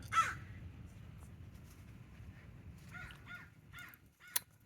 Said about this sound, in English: Sounds like there's a crow war going on.